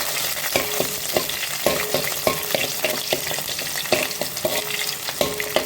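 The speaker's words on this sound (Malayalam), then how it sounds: "നമുക്ക് ഫ്രൈ ചെയ്തെടുക്കാം." Garlic, ginger and green chillies fry in coconut oil in an uruli, a steady crackling sizzle broken by regular sharp scrapes and knocks of a spoon stirring against the pan, close and fairly loud with no talking.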